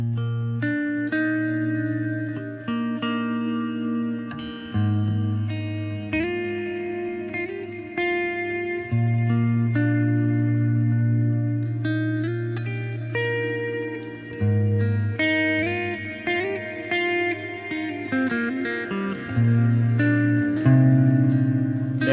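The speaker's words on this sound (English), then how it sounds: "The first preset on the DD500 for me is the Terra Echo one" Electric guitar played through the Terra Echo preset of a Boss DD500 delay pedal, a steady sustained passage with lush, shimmering ambient repeats washing behind the notes, loud and continuous with no talk.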